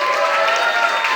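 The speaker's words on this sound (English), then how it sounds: "Give them a round of applause, hell yeah." A comedy club crowd at a grand opening in Tacoma claps and cheers, a dense, loud wash of applause filling the short moment without a break.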